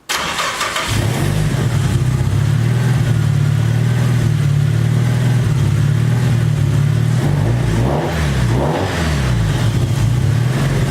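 A Nissan S14 with an SR20 engine runs on a dyno, starting with a brief catch and then settling into a loud, steady idle. The engine drones close by, with a slight wavering in pitch near the end.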